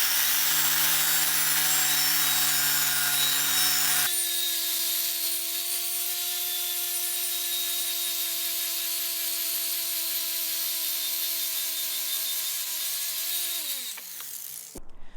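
A power tool spinning a polishing disc against corroded exhaust pipe on an Opel, a steady high whine with rubbing hiss that shifts pitch once, holds, then winds down at the end.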